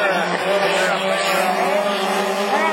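Rallycross race cars in the Division 4 class brake into a bend at Lessay, their loud engines whining and revving close by while a commentator talks over them.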